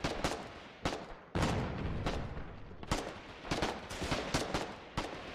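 An artillery battery fires in the online war game Foxhole, with heavy gunshot blasts booming one after another at irregular intervals, loud and close, with rumbling decay between the shots and no talking.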